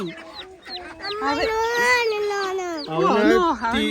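Loud, close chicken clucks and squawks in a rapid rising-and-falling series, with no talking.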